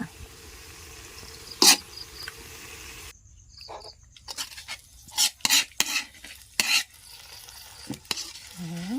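Stir-fried pork with fennel leaves being scooped from a pan to serve, with scattered sharp clinks and scrapes of a utensil against the pan over a faint sizzle, separated by brief quiet gaps.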